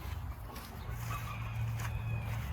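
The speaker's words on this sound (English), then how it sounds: "the Ameraucanas are the breed that I've been focusing in on for raising as my show chickens." White Ameraucana show chickens clucking softly on a homestead, low murmuring calls over a constant deep rumble of background noise, faint and somewhat distant.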